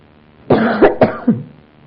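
A few close coughs in a quick cluster, three or four rough bursts over about a second, with quiet before and after.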